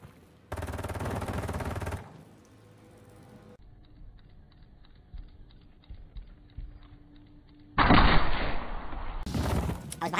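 Rapid automatic gunfire from a Call of Duty match on a gaming setup, loud dense bursts at the start and again near the end, separated by a quieter stretch of game ambience with small clicks.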